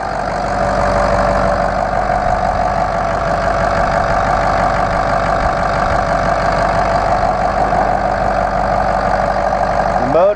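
A 2005 Ford F-350 turbo diesel pickup with a 5-speed manual idles steadily, a continuous loud rumble with a faint knocking clatter, unbroken for about ten seconds with no one talking.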